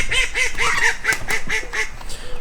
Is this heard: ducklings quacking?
yes